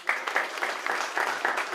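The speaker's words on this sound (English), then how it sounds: "If I mention your country, you give them a very big clap, right?" Audience applause for Jordan at an international gathering, with rhythmic, fairly even group clapping in regular pulses across the short stretch.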